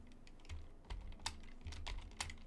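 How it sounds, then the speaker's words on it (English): Quiet, close typing on a computer keyboard, with uneven bursts of key clicks and a few louder taps, no talking over it. "You're typing in chat."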